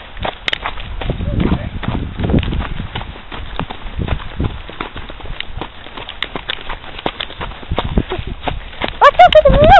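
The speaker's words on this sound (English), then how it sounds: "He feels like a gated horse." Gaited horse ridden bareback outdoors, its hooves clip-clopping in a steady, rapid rhythm close by under frequent talk and laughter from riders.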